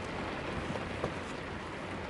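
Heavy rain pours outside in northern England, a constant even wash of noise with a faint thud or two, steady and uninterrupted, no voices.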